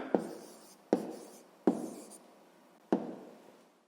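A pen writes an answer onto paper in four short scratchy strokes, each starting with a tap and trailing off, close and quiet with no talking.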